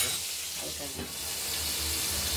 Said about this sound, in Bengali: পটলগুলো আগে একটু হালকা ভেজে নেব ভালো করে।